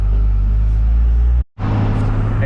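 A 12-valve Cummins diesel engine in a truck runs with a loud, close, steady low rumble that cuts out briefly midway, then resumes.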